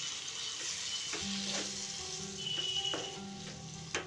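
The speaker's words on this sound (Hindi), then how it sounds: "अब इसमें दही डाल देंगे, दही को अच्छे से चला लेंगे।" Yogurt stirred into spiced chillies cooking in a pan gives a steady soft sizzle with scraping stirs, close and quiet, no talk.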